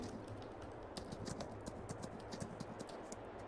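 Horse hooves clip-clop steadily in Farming Simulator 22 as a horse pulls a working cart, a regular rhythmic series of knocks over a constant background hum, with no talking.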